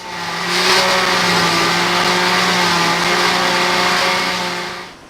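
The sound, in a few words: blender blending fruits, vegetables and ice into a shake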